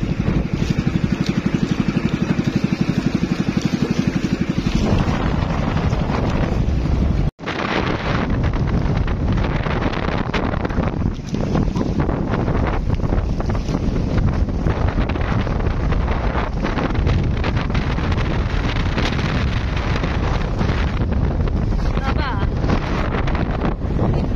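Strong wind roars against the microphone in heavy, continuous buffeting with a loud rumble, one short dropout, and voices faintly beneath.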